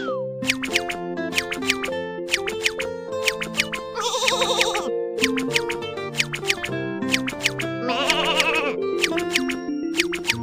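A cartoon sheep bleats twice in long wavering cries over bouncy farm-themed music with steady percussive beats, the bleats loud and upfront in a children's animated farm setting about shearing wool.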